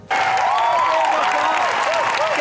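A television studio audience on an Eid special program bursts into sustained applause for a singer, dense and loud from start to finish, with faint cheering and background music woven through.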